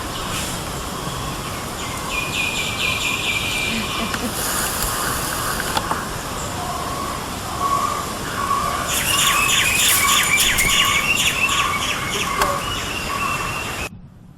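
Birds chirp and call near a pond outside a kitchen window, a busy overlapping mix of repeated tweets and trills over a steady outdoor background hiss that runs the whole time.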